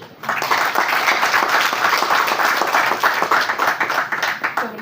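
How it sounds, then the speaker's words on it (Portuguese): Sustained audience applause fills the hall at the opening session of a national press-freedom conference, dense even clapping from many hands close and steady throughout, with no talk over it. "Estas salvas de palmas podiam ser mais fortes."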